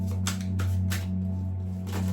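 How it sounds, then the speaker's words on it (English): Tarot cards being shuffled by hand in a series of soft, papery riffles and bursts across a couple of seconds, close and fairly quiet over a steady low hum. "you can forward the video as I'm shuffling"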